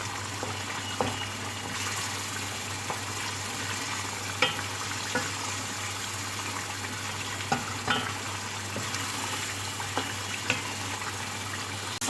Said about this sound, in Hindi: और इसको अच्छी तरह से भून लूँगी